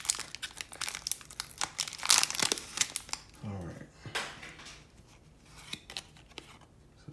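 A trading card pack wrapper being struggled with and torn open, close crinkling and tearing foil in dense bursts, with a brief voice partway through.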